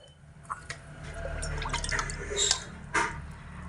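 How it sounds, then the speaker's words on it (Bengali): Hot water is poured in small amounts into rice flour in a bowl, giving a soft trickling splash with a few drips and taps close by. "এখানে আমি আবারও একটু গরম জল অ্যাড করে দিচ্ছি খুব অল্প পরিমাণে"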